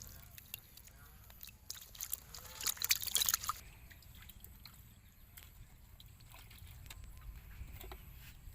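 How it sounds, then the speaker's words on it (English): Vegetables washed by hand in water, with soft sloshing and trickling, a louder splashing burst in the middle, then quieter dribbles over a low background hum. "Clean our vegetable."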